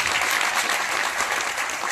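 Steady, dense applause from an audience at a journalists' protest in Bhopal, many hands clapping together evenly throughout at a moderate, close level with no talk over it.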